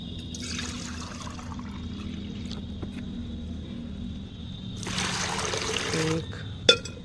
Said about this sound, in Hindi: 5 बार मैं इस पूरा लोटा भर पानी भर लेती हूँ